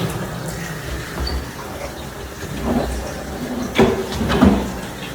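Water runs from a tap during a condo walkthrough in Park Slope, a steady low wash interrupted by a few brief knocks and clatters, with people talking over it.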